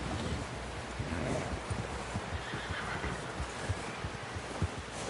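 A horse whinnies in Red Dead Redemption 2 amid hoof clip-clop and rustling outdoor ambience, the whinny fairly distant and blended into a constant background bed.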